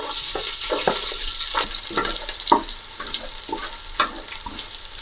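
Chopped onions fry loudly in hot oil for chicken fry piece biryani, a dense close crackling sizzle with repeated sharp spatters and pops throughout, alone without talk.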